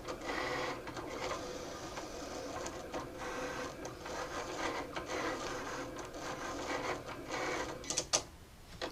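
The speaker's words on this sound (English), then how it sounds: "Already you can see that this one started cutting faster." Cricut Explore Air and Explore Air 2 cutting machines run side by side, giving a steady mechanical whirring and buzzing with rapid carriage movements and clicks, close and continuous without talk.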